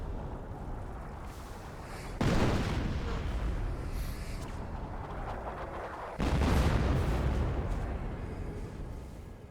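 A sector artillery barrage in Company of Heroes lands as two heavy booming volleys a few seconds apart, each followed by a long rolling rumble under faint battle noise.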